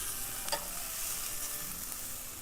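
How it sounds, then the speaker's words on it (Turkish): Onion and garlic sizzle steadily in hot olive oil, a loud continuous hiss with one brief stir near the start and no voices. "Ben bu arada zeytinyağı güzelce ısındı. Soğanımı hızlıca attım."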